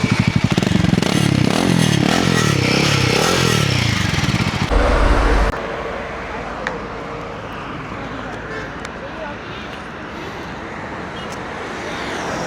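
A Royal Enfield Himalayan motorcycle with a performance modification idles at about ten percent throttle, a loud close engine rumble with clattering that drops away partway through to quieter roadside traffic, with a voice talking over it.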